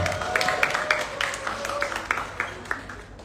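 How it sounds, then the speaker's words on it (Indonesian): Audience applauding at a film poster and trailer launch event, steady rapid clapping from a moderate-sized crowd that gradually thins out toward the end. "Beri tepuk tangan untuk Bapak Victor G."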